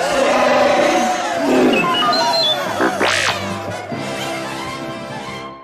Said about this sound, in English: Cheering rebels and Hoojibs rushed into the cave as Chewbacca gave a victory roar